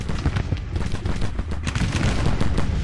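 Scattered musket and rifle volleys crackle in Grand Tactician: The Civil War, a dense, continuous rattle of overlapping shots at mid distance with no clear pauses, heard alone without talk.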